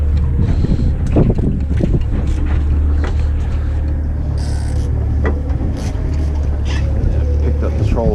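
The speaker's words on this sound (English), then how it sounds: "Basically trolling with one engine right now." A salmon fishing boat trolls on one engine, a steady loud low drone under wind noise and water slaps, with people talking intermittently.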